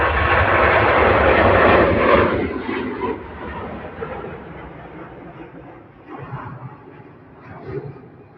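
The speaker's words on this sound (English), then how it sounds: "I love the Virgin 350s, Mike." A Virgin Atlantic Airbus A350 airliner at Manchester Airport gives a loud jet engine rush that fades over several seconds into a lower, distant rumble. Faint talk is heard under it near the end.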